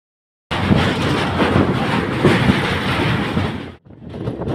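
A passenger train runs along the rails through the hilly Dooars route near a tunnel, making a loud, steady close-up rumble with rhythmic clicks. The roar dips briefly near the end, then returns.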